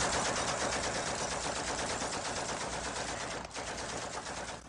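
Continuous rapid gunfire from a film scene, loud and unbroken for several seconds with a brief dip near the end, without speech.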